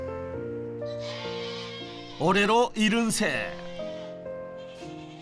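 Male black goats on a farm in Buan, North Jeolla give a short burst of loud, wavering bleats mid-clip, close by, while someone speaks calmly before and after.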